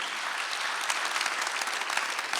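A church congregation at a Korean Sunday worship service applauds, a dense, even wash of many hands clapping that holds loud and steady throughout.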